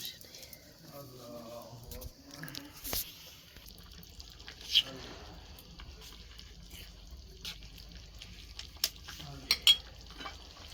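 Haleem in a mini home kitchen bubbling toward a boil while being stirred, with soft scraping and occasional sharp clinks from the pot, under a voice speaking at the start.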